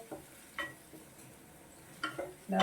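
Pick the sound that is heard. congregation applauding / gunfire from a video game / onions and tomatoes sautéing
onions and tomatoes sautéing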